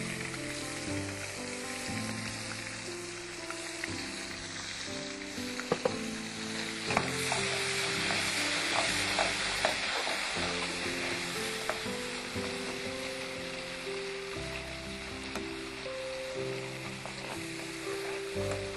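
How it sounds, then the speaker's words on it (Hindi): Masala with yogurt, turmeric and chili sizzles and fries in a pan, a continuous crackling hiss with scattered pops and stirring scrapes, moderately quiet and without speech. "मसाले को बहुत अच्छी तरह से भूनना है"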